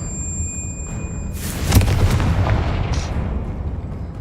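A Confringo fire spell explodes in Hogwarts Legacy, a sudden loud boom and crackling burst that rolls on as a rumbling roar and slowly fades.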